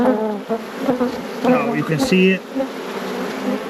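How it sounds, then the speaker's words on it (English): Honeybees buzz loudly right against a GoPro camera beside a hive after a walkaway split, sharp close passes over a steady hum while someone speaks briefly. "the bees attacking the GoPro here"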